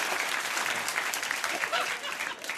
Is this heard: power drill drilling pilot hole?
no